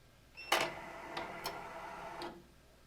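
Feeder of a Podtopic 380 machine returning to its home position: a short mechanical whir and clack followed by a few separate faint ticks and clicks, quiet and close.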